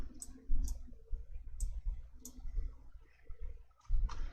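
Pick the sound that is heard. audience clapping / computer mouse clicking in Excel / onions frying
computer mouse clicking in Excel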